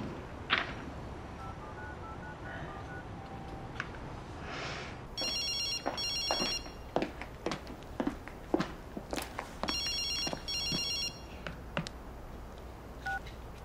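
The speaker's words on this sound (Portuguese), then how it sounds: "Tem que ligar primeiro." Landline telephone tones during an evening call at home: a few keypad dialing beeps, then a repeating electronic ring pattern with footsteps and light clatter around it, fairly quiet and with no talk.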